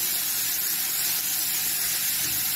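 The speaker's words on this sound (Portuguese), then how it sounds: "Logo espero refogar um pouco o tomate" Tomato sautéing in a hot pan, a steady loud sizzle and hiss that holds evenly throughout with no talk over it.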